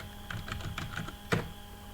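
Commands typed on a computer keyboard while configuring a Cisco network device, a quick irregular run of light key clicks ending in one firmer keystroke, close over a faint hum.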